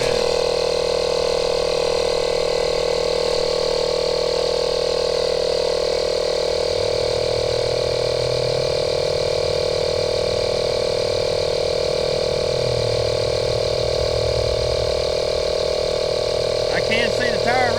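A Makita 12V cordless air pump runs steadily while inflating a tire, giving a continuous mid-pitched motor drone with a constant hum throughout and slight pitch shifts partway through, with a voice talking over it.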